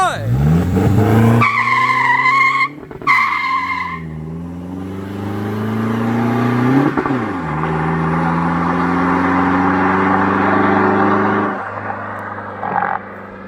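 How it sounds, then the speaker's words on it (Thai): A tuned Toyota Revo pickup fitted with a muffler roars loudly up through its gears on a track. The engine pitch climbs, breaks off sharply at each quick gear change and then climbs again over a long, sustained pull. "ช่วงต่อเกียร์นี่ไม่มีหน่วงเลยนะฮะ สับเกียร์แล้วหน้าเชิดเลย"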